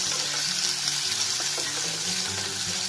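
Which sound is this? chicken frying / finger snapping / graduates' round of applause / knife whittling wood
chicken frying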